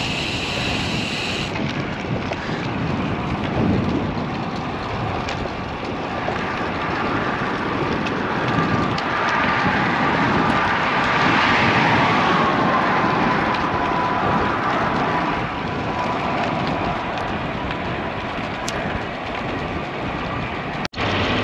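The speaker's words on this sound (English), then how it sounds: "Riding east over Lake Houston. Strong wind from my left side." Strong crosswind buffets the microphone while a bicycle rides east over Lake Houston, a steady loud roar of rushing air across the whole stretch with no voices.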